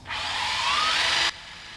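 A power drill bores into a toolbox in one continuous burst of about a second, whining upward in pitch as it spins, close and loud, then cutting off abruptly.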